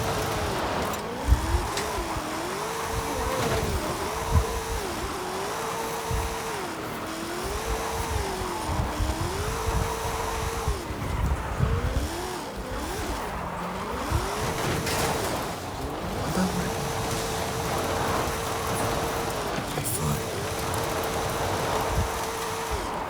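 A car drifts in the Forza Horizon 5 racing game, its engine rising and falling in repeated revving waves with tire noise, loud and continuous throughout.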